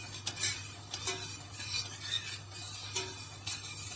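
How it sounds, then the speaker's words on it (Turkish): A spoon stirs baklava sugar syrup in a pot on the stove, making soft repeated scraping and clinking strokes at an even pace, close and fairly quiet, with no voices. "Biraz karıştırıp kaynamaya bırakacağım şerbetini."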